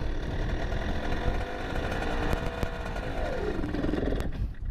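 A motorcycle engine running loud and close, a rough roaring drone with rising revs as a first-time rider holds the throttle open, steady throughout with no talking.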